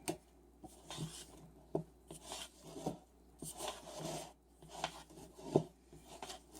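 A spatula scrapes the sides and bottom of a mixing bowl of shortbread cookie dough, giving repeated short, close rasping strokes in an uneven rhythm.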